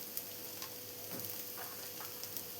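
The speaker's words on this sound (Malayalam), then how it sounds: "ഒരു 2 മിനിറ്റ് ഒന്ന് ഇതുപോലെ വഴറ്റിയെടുത്താൽ മതിയാവും" Coconut and onion sauté in a pan for egg thoran, a faint, steady sizzle with occasional soft stirring scrapes, no talk.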